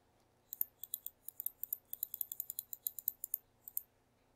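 A computer mouse clicks in a rapid, uneven run of about twenty sharp, quiet taps close to the microphone, with no talking over them.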